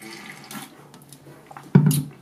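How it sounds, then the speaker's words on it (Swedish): Shower water runs in a home bathroom, dribbling softly at first and then rushing in a louder, hissing spray near the end. "Jag ska hoppa in i duschen helt enkelt."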